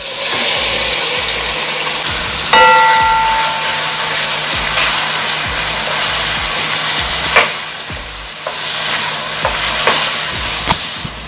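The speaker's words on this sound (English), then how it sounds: "Now I'm gonna saute my vegetables all to the pot." Vegetables with Scotch bonnet pepper, thyme and scallion sauteing in a pot for Jamaican callaloo and saltfish, a loud continuous sizzle with occasional clanks and scrapes of stirring, no talking.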